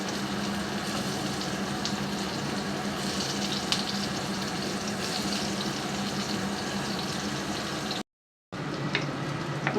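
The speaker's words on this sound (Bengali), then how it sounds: "মুরগির মাংসটা আর আলুটা কষিয়ে নিলাম।" Chicken and potatoes sautéing in a pan give a continuous, close, loud sizzle with bubbling and watery crackle, broken by a brief silent gap near the end.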